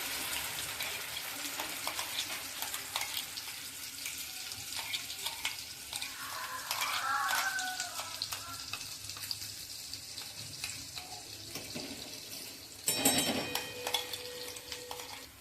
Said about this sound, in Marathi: आपण हा मसाला छान असा फ्राय करून घ्यायचा आहे